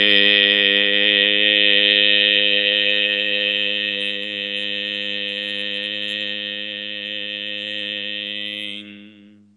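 A qigong heart-healing vocal sound: one steady, sustained, humming voice tone held for about nine seconds before it fades out, with no other sounds.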